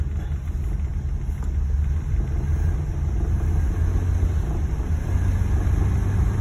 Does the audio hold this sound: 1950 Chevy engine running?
yes